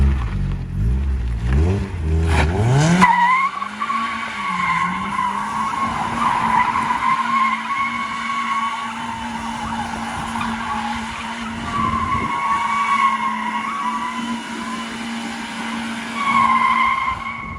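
A Miata engine revs hard in first gear and tires squeal in a long, sustained screech, a loud continuous burnout that holds steady and swells again near the end.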